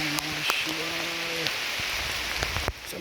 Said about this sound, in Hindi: ये तो बहुत तेज है वर्षा